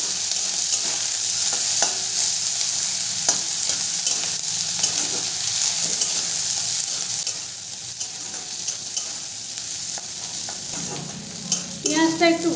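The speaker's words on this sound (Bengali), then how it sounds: "পেঁয়াজটা একটু ভাজা ভাজা হয়ে গেছে" Onions sizzle in oil while being stirred for ghugni, a steady close frying hiss with repeated spatula scrapes, easing slightly before a burst of louder crackling at the end.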